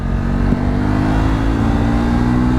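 A Royal Enfield Himalayan 450 or Triumph Scrambler 400X adventure motorcycle pulling away as the ride starts, its engine a loud, steady close-up drone with a low throbbing rumble, pitch holding fairly even.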